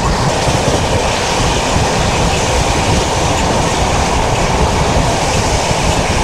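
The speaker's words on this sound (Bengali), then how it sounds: "কিলোমিটার বেগে আমাদের হিমগিরি এক্সপ্রেস এখন দৌড়চ্ছে তার ট্র্যাকে" A Himgiri Express superfast train runs at speed on the Howrah to Jammu line, making a loud, steady roar of wheels on track with a continuous rumble and no talking.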